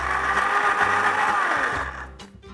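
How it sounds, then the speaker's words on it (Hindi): A kitchen mixer grinder whirs loudly and steadily as it blends peanut chutney in its jar, a dense motor whine with rattling low churning, then winds down and fades near the end. "मिक्सी का जार ले लेते हैं।"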